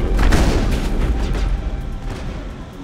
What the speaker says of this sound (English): Got some Geth snipers over there shooting at us.